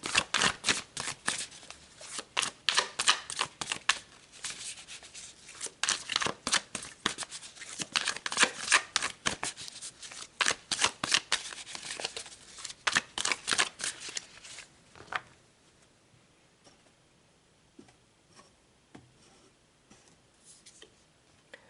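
Tarot cards shuffled by hand, a fast run of crisp riffling flicks and slaps for about fifteen seconds, close and clear, then fading to near silence.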